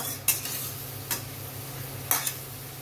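Methi bhindi with ginger is stirred in a hot pan: a soft, steady sizzle runs underneath, with a few sharp scrapes of the spoon against the pan close by.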